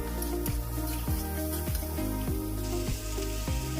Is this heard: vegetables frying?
yes